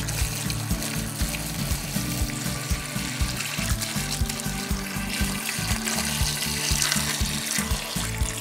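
Water is poured steadily into a bowl of mashed bananas, about 1.5 gallons, to thin the mash for Ugandan banana brandy (waragi). A continuous, loud, rushing pour runs for the whole stretch with no talking.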